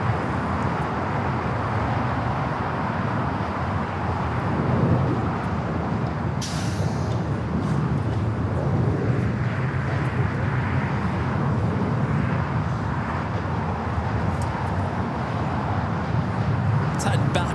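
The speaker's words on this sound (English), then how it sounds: "Eva Air Flight 5 in the Star Alliance livery taking off to Taipei." An Eva Air airliner in Star Alliance livery takes off from runway 24 Left at LAX bound for Taipei, a steady, loud, broad jet roar sustained throughout, with a brief hiss partway.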